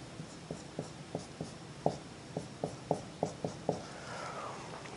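Hand drawing a cylinder sketch during an engineering lecture, about a dozen short, evenly spaced pen or marker strokes, faint and close with no talk.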